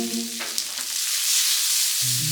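Seasoned blackened chicken searing in a hot pan, a loud steady sizzle and hiss that fills the clip, with a low hum at the start and end.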